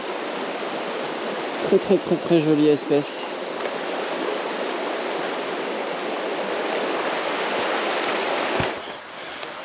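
A river rushes steadily in Sumatra, a constant broadband wash of flowing water heard close by throughout, with a voice speaking briefly over it early on.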